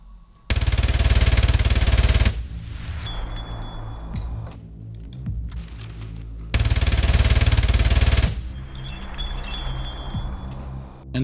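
Kriss Vector submachine gun firing in Escape from Tarkov, two long sustained full-auto bursts, loud and close, separated by quieter in-game ambience and clinking mechanical sounds.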